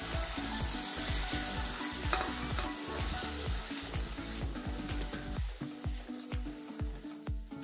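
Spiced masala water sizzling as it is sautéed in oil for an egg curry, a dense, steady frying hiss with repeated scraping stir strokes in a regular rhythm, close and loud throughout with no talking.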